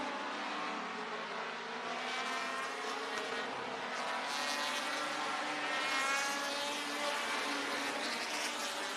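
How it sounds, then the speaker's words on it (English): Race cars lap a short oval at Dells Raceway Park during an American Short Trackers feature, a dense continuous roar of several engines rising and falling as cars sweep past, loud and steady throughout. "Ten laps to go for for Davey Pinnell."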